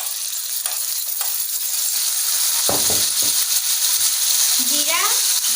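Fish fries in a pan for an Assamese fish recipe as a cumin, chili and turmeric masala mixed in water is added, a loud continuous hiss and sizzle with brief clatters, and a rising squeal near the end.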